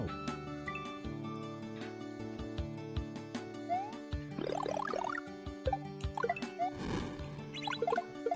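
Water level music from a Super Mario World kaizo hack plays alone, a gentle bouncy melody of sustained tones with plucked, bubbly accents and rising flourishes, steady and moderately loud.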